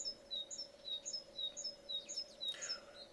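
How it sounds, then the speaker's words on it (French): Garden birds chirping in spring, with repeated high thin calls and tweets continuing throughout, faint and at a distance over a steady background hum. "vous entendez derrière tous les oiseaux, ce sont les oiseaux de mon jardin"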